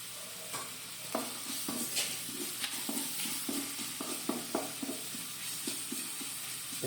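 Onions frying in a pan for a home-cooked dish, a steady close sizzle broken by frequent clicks and scrapes of stirring, with no talk.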